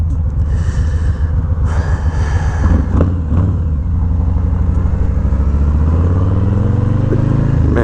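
A Harley-Davidson Low Rider S motorcycle leans through corners, its engine a steady, loud low rumble with rising and falling revs and some wind noise, continuous throughout.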